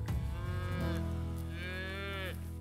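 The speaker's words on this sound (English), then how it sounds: "raises red Angus cattle at Curry Canyon Ranch in the hills of Mount Diablo" Red Angus cattle on a hillside ranch near Mount Diablo give two long, loud moos close by, the first low and rough and the second rising and drawn out, with no talk.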